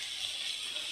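Water poured into masala while cooking, a brief, steady splashing hiss at moderate distance lasting about a second.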